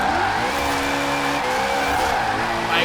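A Koenigsegg Agera RS drifting in Forza Horizon 4: a sustained, loud engine drone with steady harmonics under continuous tire squeal that runs without a break.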